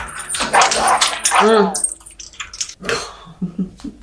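A dog barks and whines close by, with a voice talking over it, then a few shorter yelps follow.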